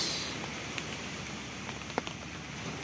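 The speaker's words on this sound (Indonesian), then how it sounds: "Pagi ini diawali dengan gerimis mengundang sehingga suasana menjadi syahdu." Light morning drizzle at Bandealit beach campsite, heard as a faint, steady patter with a few soft isolated drops, quiet and even throughout.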